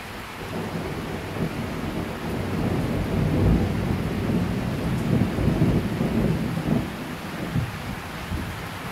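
Thunder rumbles through a thunderstorm with steady rain, a broad continuous low roar swelling and easing over about nine seconds, loud and close with no voices.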